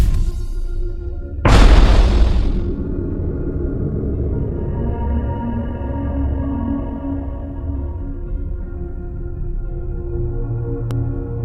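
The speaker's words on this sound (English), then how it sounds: "When it hits the surface, it releases a blue-green energy blast." A single deep boom from the healing tool's energy blast striking Earth in the Solar Smash game, loud and sudden, followed by a long low rumbling tail that fades slowly.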